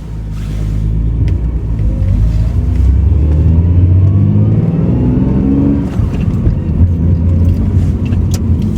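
A Toyota Cressida MX83 on its first drive after being restored from a non-running state: a steady, loud engine rumble with rising and falling revs as it accelerates, heard up close from inside the car, with no talking.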